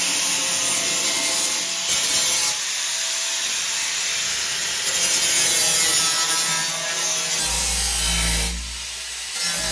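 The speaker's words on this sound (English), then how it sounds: "Now we've got some pretty nasty rough edges, so we need to get the flap disc out and start" Flap disc on a grinder smoothing rough metal edges of a hole cut in a Land Rover Defender body for a side window, a loud continuous rasping grind close by that ends in a deep rumble as the tool winds down.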